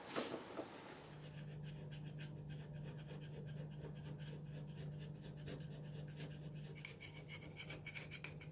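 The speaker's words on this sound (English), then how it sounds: "So let's continue scraping." A hand scraper works a lathe cross slide on an Okuma LS in repeated short, faint rasping strokes, a quiet rhythmic scratching that starts after a brief pause and continues steadily.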